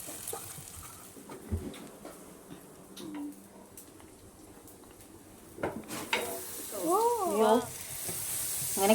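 Bread fries in a pan with sugar for caramel cheese toast, giving a soft sizzle broken by clinks and scrapes of a utensil against the pan, with louder stirring near the end.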